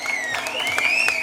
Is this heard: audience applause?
yes